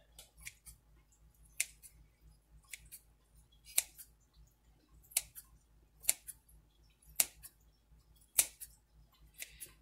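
Scissors snip repeatedly through ham sandwich meat over a pizza at an uneven pace, sharp close clicks and cuts against a quiet background, with no voices.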